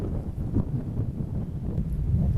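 Steady outdoor wind buffets the microphone by the water on a breezy, cloudy day, a continuous low rumbling gust noise with slight swells and no talk.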